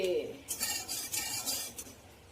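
Peanuts roasting in a hot pan crackle and pop between the scrape and clink of a stirring utensil, close and moderately loud, in short irregular bursts.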